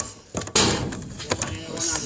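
A door is pulled during a police hostage situation, a sharp loud bang followed by rattling knocks, with voices talking nearby.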